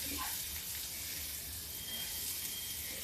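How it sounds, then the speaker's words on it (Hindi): Garlic sizzles in hot oil for a moong dal tempering, already crackling with cumin, giving a steady close hiss with faint pops and no talk over it. "अब इसमें हम डाल देते हैं, देखिए थोड़ा सा लहसुन, और लहसुन पड़ गया"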